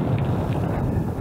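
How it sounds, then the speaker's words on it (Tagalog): Strong headwind on a road ride roars steadily against the microphone, a dense low rumbling buffet with no other sounds. "Sa part ng kalsada na to, malakas ang hangin. Yung headwind."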